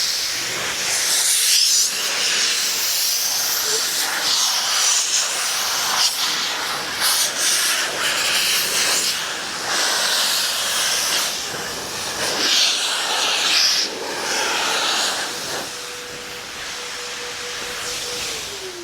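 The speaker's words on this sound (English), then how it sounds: "let's do the same thing with the blow car dryer at maximum power." A Blow car dryer running at maximum power, blasting air over a car's panels and into cracks, a loud steady hiss and roar that shifts as the nozzle moves.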